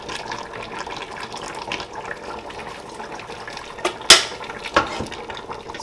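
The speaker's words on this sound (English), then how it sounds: "I might just add a tiny bit of water." A little water splashes into a pot of Nigerian oha soup: a soft, running liquid background, then a couple of brief, brighter splashes near the end.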